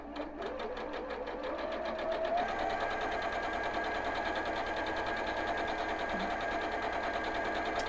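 A sewing machine runs a quarter-inch seam down the side of a quilt in a fast, steady whirring stitch that carries on throughout.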